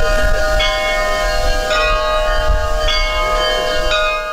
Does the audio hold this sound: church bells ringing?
yes